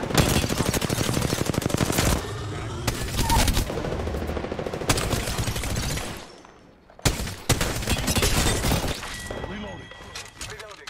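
Rapid bursts of automatic gunfire and shots from the battle royale game Apex Legends, dense and loud for about six seconds, a brief lull, then more sustained firing, with voices chatting underneath.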